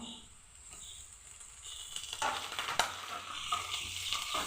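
Sliced onions sauté in a pan for spinach thoran, giving a soft steady sizzle with light stirring scrapes, close but fairly quiet.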